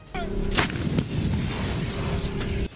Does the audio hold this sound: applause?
no